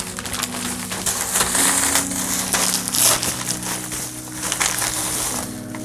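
Plastic packaging around minifigures being handled and torn open, a continuous dense crinkling and crushing close by with no talking.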